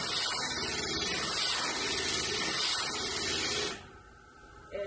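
A wet glass grinder runs against a glass piece, giving a dense, even, spraying hiss that cuts off abruptly near the end, leaving a quieter hum.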